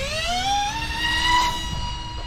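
A Diatone Ripper R690 FPV drone on a 5S battery launches, its motors rising into a loud, high, whining pitch that sweeps upward close by.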